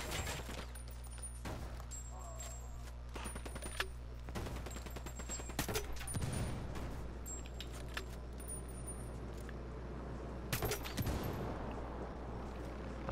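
Gunfire in the video game Ghost Recon Wildlands: sharp bursts of shots crack out repeatedly at irregular intervals over a steady low background hum.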